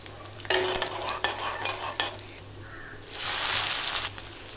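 Mustard seeds, fenugreek, cumin and vadagam sauté in sesame oil in a pan, with bursts of spoon-stirring scrapes followed by a steady, louder sizzle, close up and without voices.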